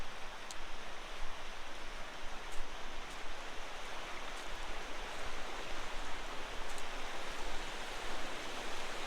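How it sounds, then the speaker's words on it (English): A mountain creek flows with a steady broadband rush of water, continuous and even throughout, with no voices over it. "This creek right here."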